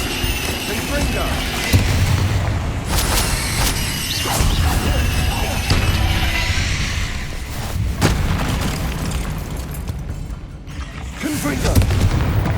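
Repeated Confringo blasting spells in Hogwarts Legacy, played on PS5, a steady series of booming fiery bursts and crashes with whooshes between them, loud and dense, mixed with a voice speaking through the sequence.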